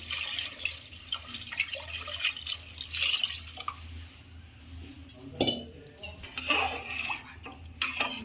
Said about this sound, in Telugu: ఇప్పుడు వాటర్ వేసుకుందాం మనం దీంట్లోకి.